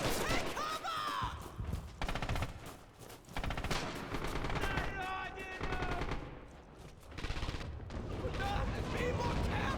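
Machine gun fire in the video game Red Orchestra 2: Heroes of Stalingrad, rapid bursts of gunshots mixed with chaotic battle noise and shouting soldiers' voices, fairly faint and layered throughout.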